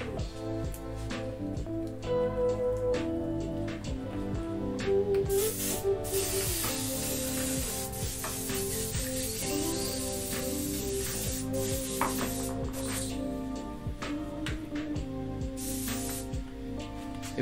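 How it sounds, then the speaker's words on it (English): Airbrush spraying paint onto a T-shirt, a steady close hiss that runs almost without a break, swelling louder for a few seconds in the middle, with faint music underneath. "I need to clean my airbrush again because it's getting all gunky and stuff."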